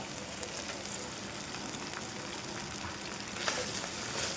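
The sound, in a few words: noodles added to frying spices and stirred in a pan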